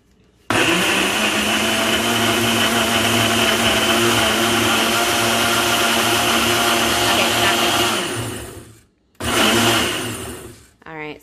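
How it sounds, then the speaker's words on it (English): A kitchen blender runs while making sofrito, a loud, close, steady motor whir that lasts about eight seconds, stops, then gives two shorter bursts. "So then it has to be my blender."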